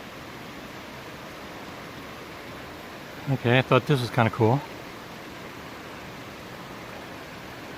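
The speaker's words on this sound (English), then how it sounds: "A waterfall going on here." Steady rushing water from a waterfall beside the Appalachian Trail on the northbound stretch from Morgan Mill Road toward Sam Moore shelter, a broad constant roar heard throughout, with someone briefly speaking over it midway.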